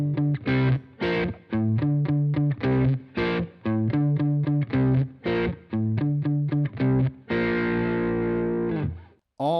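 A heavily fuzz-distorted electric guitar plays a choppy riff of repeated short chords with brief gaps, ending on a long sustained chord.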